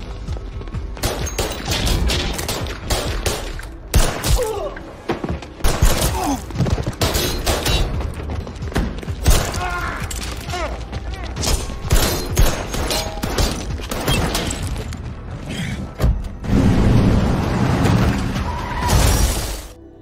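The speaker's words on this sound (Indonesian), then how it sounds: "terjadilah aksi tembak-tembakan" Dense gunfight from an action film, with rapid bursts of automatic fire, single shots and shattering impacts layered loudly and continuously throughout, plus heavier booming blasts near the end.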